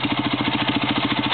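Truck and tractor engines running as they circle a track, a steady mid-pitched mechanical drone with a fast, even pulsing throb, close and continuous with no talk.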